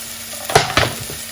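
Small cut potato pieces dropped into a pan of browned onions give two quick sizzling bursts with light clatter, then settle to a soft frying hiss.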